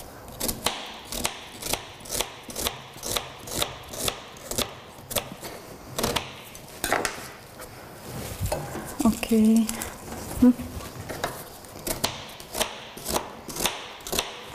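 Onions are chopped on a board for an eggplant stew, sharp knife strikes in a steady even rhythm, close and distinct, with a brief spoken word midway.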